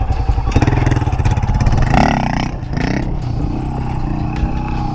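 A motorcycle engine revs loudly and close by, holding a rough, clattering idle before a surge of acceleration around the middle, then settling back into a steady, throaty run with some scraping and rattling.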